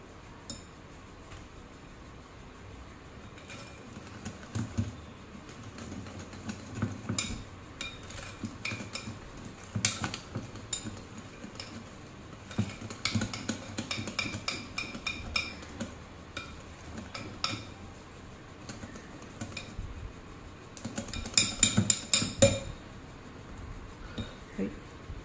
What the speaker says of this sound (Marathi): तर हे बघा असं बेसन छान फेटून घ्यायचंय 2-3 मिनिटं